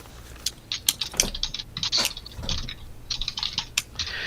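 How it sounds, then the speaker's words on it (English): Someone types notes on a computer keyboard, with quick irregular bursts of close key clicks and short pauses, alone without talk over a faint background hum. "I'm typing notes of what's happening, so that's why I'm delayed."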